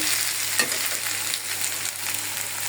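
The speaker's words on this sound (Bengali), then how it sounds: "একদম সুন্দর করে আলুগুলা ভাজিয়ে নিলাম" Potatoes fry in a pan with a steady, close sizzle, while occasional stirring scrapes break through the hiss and no one speaks.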